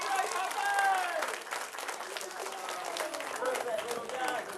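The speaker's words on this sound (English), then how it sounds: "Big round of applause for my great hoppers." An audience at a live science demonstration claps in a scattered patter of applause, with voices talking over the clapping throughout.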